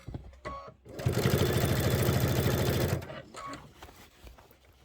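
A sewing machine stitching through the layers of a quilt border with a tight stitch, running as a fast, even mechanical chatter for about two seconds, loud and close, with quieter handling sounds before and after.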